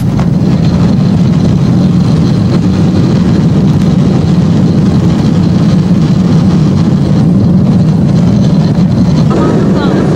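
A Boeing 747 jet engine on fire during takeoff gives a loud, unbroken roar with a heavy low rumble, holding steady throughout without pause.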